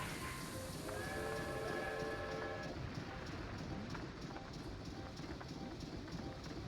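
A train rumbles and clatters steadily in the Banjo-Tooie video game, with a brief high tonal whine near the start over the continuous rolling noise.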